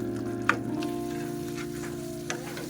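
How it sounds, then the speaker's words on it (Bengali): Prawns frying with spice paste in a pan while cooking a Bengali prawn malai curry, giving a steady close sizzle with a couple of brief clinks of stirring. "চিংড়ি মাছগুলো মশলার সাথে 3 থেকে 4 মিনিট মতো কষিয়ে নেব।"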